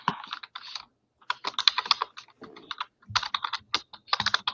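Close, fast typing on a computer keyboard: bursts of crisp key clicks in quick runs, broken by short pauses, with nobody talking.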